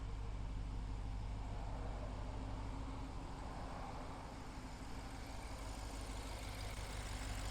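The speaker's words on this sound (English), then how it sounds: "As the engine warms up, it's nice and quiet." A 2017 BMW X6 xDrive50i engine idles while warming up with a low, steady hum and faint rumble, quiet and even throughout with no voices.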